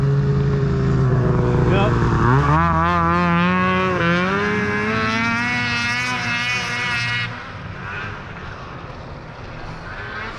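A snowmobile sled engine runs loud and close on thin snow, its pitch climbing and wavering as it revs, then easing back toward the end, with a short spoken reply over it.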